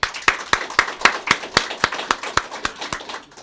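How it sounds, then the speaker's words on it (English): Applause for unsung heroes at a 2022 awards presentation, heard as a steady run of about a dozen crisp, evenly spaced claps, close and fairly loud, with no talking over them. "I'd like to give one last round of applause"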